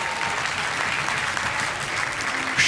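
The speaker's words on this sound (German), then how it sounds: "Den Applaus gönne ich euch." Audience applause after a live rock band's performance on an Austrian stage, sustained and loud clapping from a crowd that carries evenly through the whole stretch.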